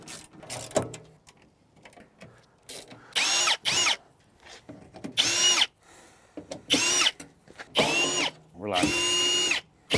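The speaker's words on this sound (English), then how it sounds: "I'm gonna use my drill to take them out." Power drill spinning out bolts from a Yoder pellet smoker panel, several loud close bursts of whirring with brief pauses and lighter ratcheting clicks between them.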